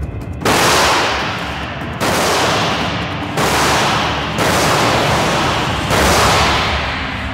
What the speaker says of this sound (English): They plan to shoot a sheet of aluminum used to make aircraft, which for Mike best matches the metal being